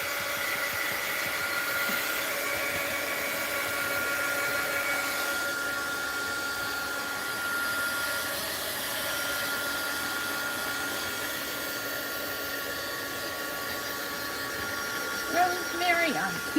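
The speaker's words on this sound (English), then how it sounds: "heat gun alert." A heat gun runs steadily for crafting a mixed-media fabric heart art journal piece, giving a continuous airy whirring hum that lasts throughout, with a few light clatters near the end.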